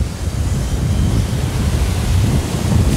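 Steady ocean surf and wind buffeting the microphone at Praia das Campas beach in Tamandaré, Pernambuco, Brazil, a continuous low rushing roar with no speech.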